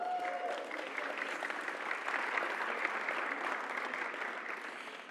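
An audience applauds steadily and continuously at a panel event, a dense wash of clapping from many hands at moderate distance, even in level throughout with no talking over it.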